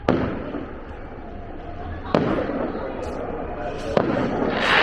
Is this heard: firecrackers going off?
yes